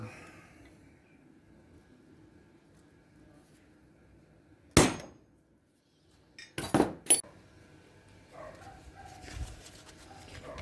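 Metal punching during a HOTAS mount upgrade: one sharp, loud hammer strike on a punch into metal, then a quick cluster of two or three more hits and some faint clinking in a quiet workshop.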